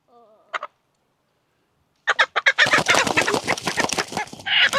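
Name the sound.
broody hen clucking while being dunked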